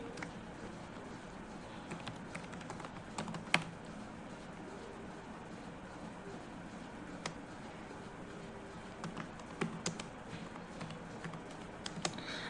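Keys on a computer keyboard tap softly while an online job application form is filled in, with irregular bursts and single keystrokes over quiet room hiss.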